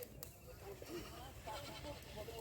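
A goat bleats several times in short wavering calls, with people talking and background noise throughout.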